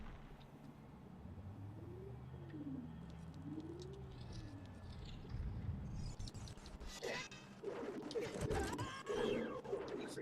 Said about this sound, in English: and there are birds.